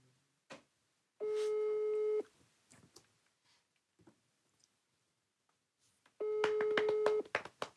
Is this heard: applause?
no